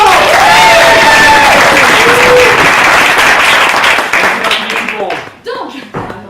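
An audience at an improv comedy show claps in a loud, dense burst of applause that fades out near the end, leaving a few scattered claps and voices.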